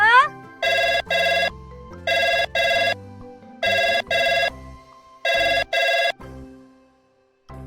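A phone rings in four paired bursts of a bright electronic trill, evenly spaced, with low background sounds between the rings.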